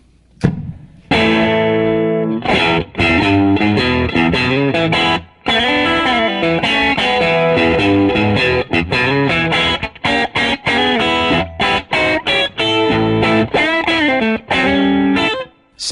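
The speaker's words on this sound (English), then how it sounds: "So it's simultaneously adding gain and distortion, but keeping the bass tight." A Fender amp driven into distortion by a Stratocaster on the middle pickup, loud close gritty chords and sustained notes with tight bass, a few brief breaks between phrases.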